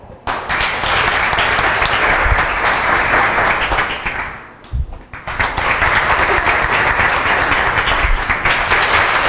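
Loud audience applause at a marketing event where the crowd votes by clapping, a dense sustained burst that dips briefly midway before surging back strong to the end.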